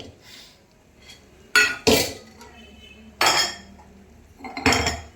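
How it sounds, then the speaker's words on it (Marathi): Cooking pans, a griddle and metal utensils clink and clatter while pav bhaji is made in a home kitchen, with four sharp, loud knocks over quieter background kitchen noise. "मी आता तवा ठेवते इकडे, पाव गरम करून घेते लगेच"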